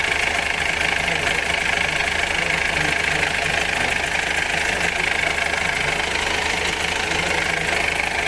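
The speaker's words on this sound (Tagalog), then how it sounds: "J4KB engine to. Kinglong." A Kinglong van's J4KB diesel engine idles steadily and loudly close by, a continuous even rumble with a faint knocking texture throughout and no talk over it.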